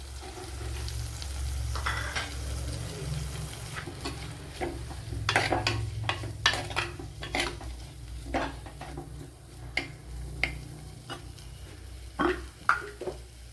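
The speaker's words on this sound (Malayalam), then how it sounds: "ഇതിലേക്ക് കുറച്ച് സവാള ചേർത്ത് കൊടുക്കുക" Onion sautéing in oil in a pan for sardine curry, a continuous hiss with many sharp spatula scrapes and taps against the pan, close and moderately loud, no talking.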